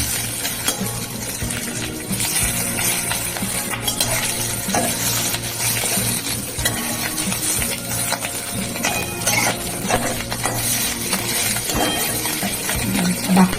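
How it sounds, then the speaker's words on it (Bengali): Bhetki fish roe frying in oil in a pan, a continuous close sizzle with scraping and stirring of a utensil against the pan throughout. "তেলে এরকম করে ভেজে নেবো"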